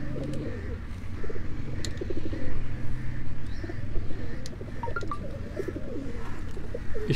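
Pigeons cooing nearby in soft, repeated low rolls, with a few faint bird chirps and distant traffic behind them.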